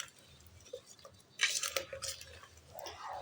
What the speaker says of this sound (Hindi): अब आपने चम्मच लेकर ना इसको मिक्स करना है।